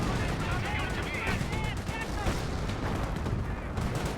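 Steady small-arms and machine-gun fire crackles across a Company of Heroes 1 battle between Panzer Elite and British forces, with infantry under fire, repeated shots and distant thumps layered over a dense battlefield din and a commentator talking.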